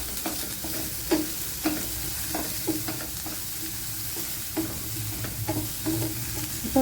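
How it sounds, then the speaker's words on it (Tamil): Broad beans with turmeric and chili powder are stirred in a frying pan, giving a steady sizzle broken by repeated scraping and clacking stirs at irregular intervals, close and alone with no talk. "சேர்த்துட்டு காயை நல்லா கிளறி விட்டுக்கிறோம்"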